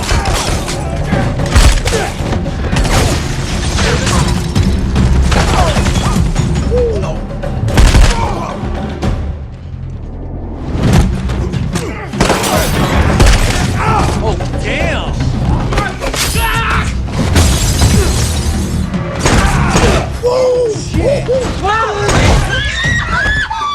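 Dense gunfire and heavy impacts crash through a violent film action scene, with rapid bursts, thuds and smashing, a short lull, and then more shooting, all loud and chaotic under shouts and screams.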